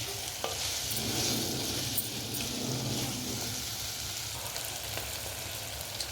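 Cluster beans are stirred into softened tomato in a frying pan for goruchikkudu pulusu, giving a steady close sizzle with soft scraping throughout and no voices.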